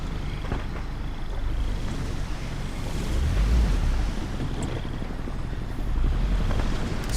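A boat engine runs steadily in the Vietnam-era war game Hell Let Loose, a continuous loud rumble blended with wash of water and wind noise, with no talking.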